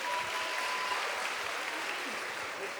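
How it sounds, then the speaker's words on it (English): Audience applause for about 40 volunteers at an evening community event at the Somali Museum, steady and dense clapping that fills the whole stretch at a moderate distance, no voices over it. "So I want to have a round of applause for all of them."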